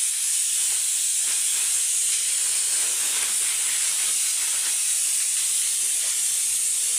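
Potatoes fry in hot oil for a fish curry, giving a loud, steady, unbroken hiss of sizzling close by that runs throughout, with no talking.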